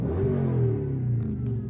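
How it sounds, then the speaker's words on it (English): A tuned Chrysler 300 engine gives a short deep rev, a loud rumbling exhaust swelling and then settling back over under two seconds, close by. "Cool little rev, you know what I'm saying?"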